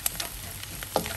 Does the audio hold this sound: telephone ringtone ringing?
no